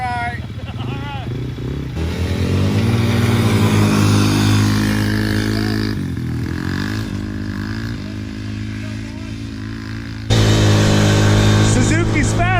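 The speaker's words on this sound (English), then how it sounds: "You're gonna go first, and I'm gonna try and pass you." Polaris Outlaw 110 EFI and Suzuki LT80 ATVs racing: small engines buzz and rev close by, pitch rising and falling, with a louder surge near the end.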